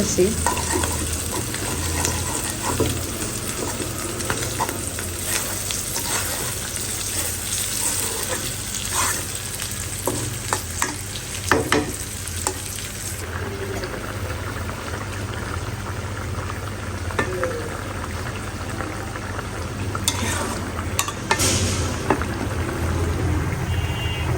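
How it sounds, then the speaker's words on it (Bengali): Two fish fry in a pan for a home lunch, with a continuous loud sizzle and spatter, frequent stirring and scraping, and faint background noise. "আমি দুইটা মাছ রান্না করছি"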